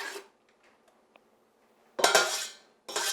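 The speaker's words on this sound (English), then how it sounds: "I'm going to go ahead and add these onions and this ginger to it." Onions and ginger are tipped into a cooking pot with a teaspoon of oil, giving two short bursts of sizzle and clatter separated by quiet, with a few faint taps between.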